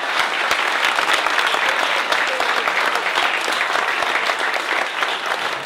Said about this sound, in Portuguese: Uma salva de palmas para a rainha do samba, Beth Carvalho, por favor.